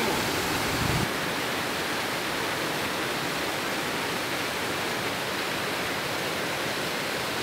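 Steady, dense roar of a waterfall heard up close, a continuous broadband rush of falling water with no pauses, on a river where fishing bait is thrown near the cascade's edges.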